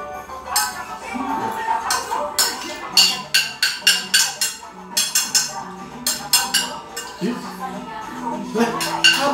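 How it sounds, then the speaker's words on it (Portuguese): Dishes being washed at home: plates and cutlery clink and clatter in quick irregular bursts, close and fairly loud, with voices speaking intermittently underneath. "Você vai lavar a louça? Vai lavar a louça."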